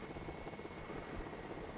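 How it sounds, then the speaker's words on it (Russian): A camouflaged military helicopter at the Chernobyl nuclear plant in 1986 drones faintly and steadily in the distance, a continuous low rotor rumble with no other sounds. "Все вертолеты вот эти камуфляжные"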